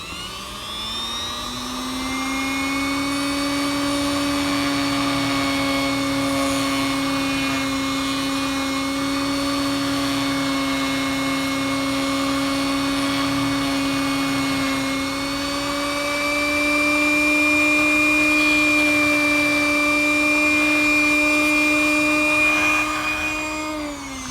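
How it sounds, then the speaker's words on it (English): A Dremel rotary tool cuts into a plastic model railroad part, a loud steady high-pitched whine that holds nearly constant for the whole stretch, with slight pitch dips as the bit bites into the plastic. "I'm going to remove part of it anyways with my Dremel"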